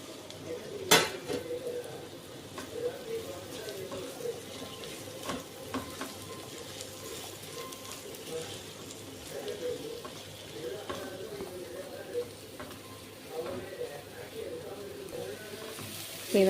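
Boiled elephant foot yam tossed into a pan and frying, with soft sizzling, stirring and occasional clinks of utensil on metal, plus a sharp clatter near the start; moderate level and continuous.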